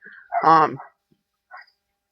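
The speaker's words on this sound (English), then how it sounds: "My boy is barking in the truck." A dog barks inside a truck: one strong, harmonic bark near the start, then a short, fainter yip a second later, with quiet gaps around them.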